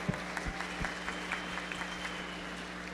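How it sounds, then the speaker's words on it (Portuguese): Faint, thin applause from a small audience for panel guests at a talk on community strategies, scattered claps over a constant low hum. "um salva de palmas para todos os convidados aqui"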